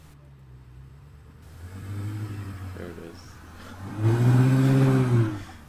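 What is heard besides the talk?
car driving away down the street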